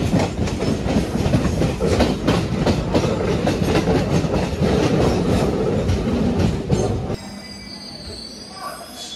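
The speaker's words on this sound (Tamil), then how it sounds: "வேளச்சேரி போகிற ட்ரெயின் இது." A suburban train bound for Velachery rolls along the rails with a loud, continuous rumble and a steady clatter of wheels for about seven seconds. Then it drops away to a quieter background with faint high squeals.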